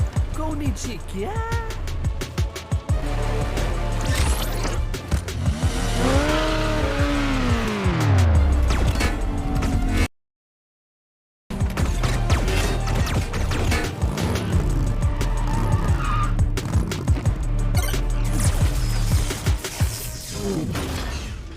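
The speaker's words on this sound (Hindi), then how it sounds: "आज शाम के लिए हमारा मोटरसाइकिल चेज का कोटा खत्म हो चुका है" Vehicle chase in a Sonic the Hedgehog 3 film scene, loud and continuous, with tire squeals, a descending whine, and dense action effects under music, cut by a brief silence midway.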